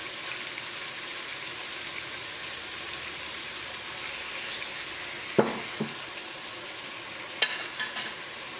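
Soy sauce poured into a hot pan gives a steady, close sizzle throughout, with a few sharper bursts of spitting and utensil clatter near the end.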